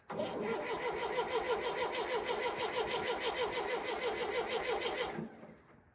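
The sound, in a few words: John Deere 400 tractor engine cranking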